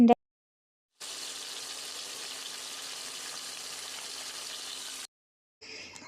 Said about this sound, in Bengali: এই জন্য মাছটা আমি ভাজা বসিয়ে দিচ্ছি